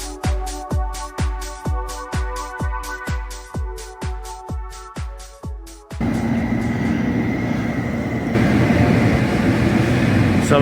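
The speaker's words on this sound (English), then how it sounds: "This is the train going up the other way." A train passes through a railway station, its wheels beating a rapid regular clack over the rail joints for several seconds before giving way to a loud steady rushing roar.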